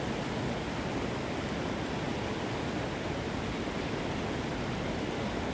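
A river pours steadily behind a guided meditation, a constant broadband rush of flowing water with no break or change in level, like a nearby torrent heard outdoors.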